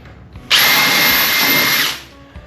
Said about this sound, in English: I'm going to go just under the lip here and I'm going to drill a hole.